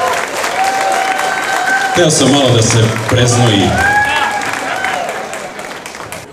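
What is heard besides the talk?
audience applause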